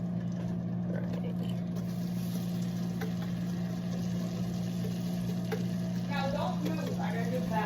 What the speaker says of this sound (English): So, cast iron pan, melting a whole stick of butter.